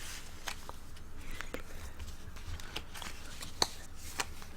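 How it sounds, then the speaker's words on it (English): Tarot cards are shuffled gently, close and quiet, soft papery rustles and light taps recurring in an irregular rhythm over a faint background hiss. "I like shuffling gently."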